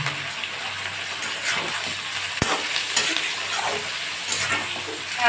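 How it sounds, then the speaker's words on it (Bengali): Boiled mutton stock poured into a pan of mutton being sautéed with green chillies, giving a close, continuous hissing sizzle mixed with watery splashing and stirring, and a soft thud partway through. "আমার মাংসের জল, সিদ্ধ মাংসের জলটা দিয়ে দিচ্ছি একটু"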